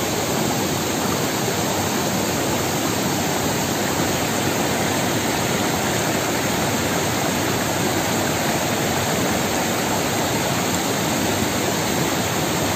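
Rushing mountain river current flowing down from Mount Ciremai, a steady loud broadband roar of churning water that stays constant and close throughout, with no voices.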